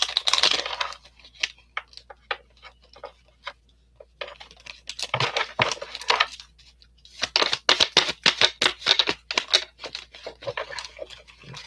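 A deck of oracle cards is shuffled up close, producing quick bursts of crisp riffling and flicking in irregular clusters, separated by short pauses.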